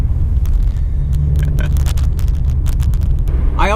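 A Stage 2 Subaru WRX sliding sideways down a snowy street, its engine a loud, steady low rumble inside the cabin, with scattered clicks and a brief voice near the end.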